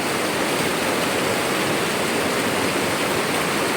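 Rushing floodwater roars in a loud, unbroken torrent close to the microphone, with no voices over it.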